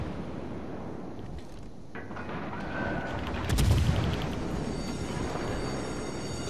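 Heavy warship guns fire in a naval battle video game, a deep booming salvo rising around the middle over a steady low rumble of wind and engine noise, with no talking.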